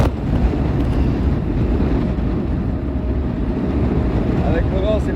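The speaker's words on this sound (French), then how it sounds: "Avec le vent, c'est pas agréable" Strong wind buffeting the microphone during a 10 km mountain cycling training ride outdoors, a steady loud rumble that never lets up, with a voice briefly audible near the end.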